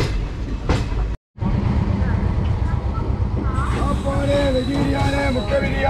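An Indian passenger train on the Chennai–Tiruvannamalai route rolls into Villupuram Junction, with loud continuous rumbling and clattering wheels, a brief dropout, then squealing wheel tones as it slows. Someone talks over the noise.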